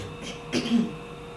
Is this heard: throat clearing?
yes